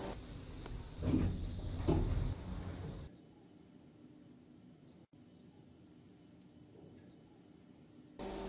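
Elevator doors in a Roblox game slide with a rumbling mechanical whoosh and a couple of thuds, then settle into a low, quiet hum of the moving car with a soft click near the end.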